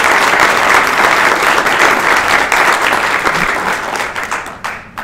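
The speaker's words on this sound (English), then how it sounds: "Let's give her a round of applause" A room at a school board meeting gives a round of applause, loud close clapping that holds steady and then thins and fades out in the final second.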